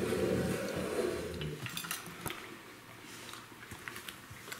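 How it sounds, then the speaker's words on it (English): A rib eye steak meal with air-fried potato skins is plated, and dishes and cutlery clink and scrape close by. The clatter is busy at first, then thins to scattered taps. "It's time to plate the meal."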